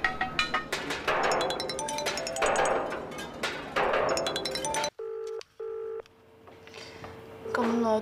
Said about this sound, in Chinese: 咁耐都唔听电话噶，